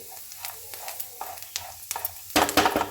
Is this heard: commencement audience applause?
no